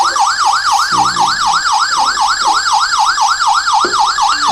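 A wireless burglar alarm siren, set off by a door magnetic sensor, wails loudly and continuously in a fast rising-and-falling electronic sweep, close and alone with no talk over it.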